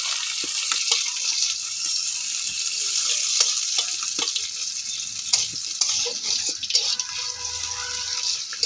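Chopped onion fries in oil after dried red chillies have gone in, a continuous bright hiss with scattered crackles and light clinks of a spoon against the pan, with no voices.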